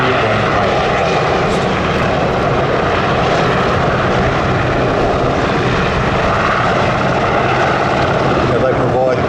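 A Westland Sea King helicopter at an air festival gives a loud, continuous rotor and engine roar that fills the whole stretch without pause.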